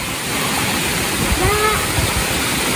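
A stream flowing along a trail beside an Indonesian fishing spot, a steady full broadband rush of water that fills the whole clip, with faint voices briefly audible under it.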